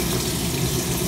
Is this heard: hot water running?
yes